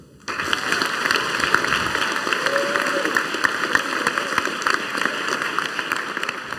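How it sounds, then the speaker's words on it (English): A school audience breaks into a sustained round of applause, dense clapping that starts abruptly and carries on evenly, slightly distant. "I think deserves one really big last round of applause"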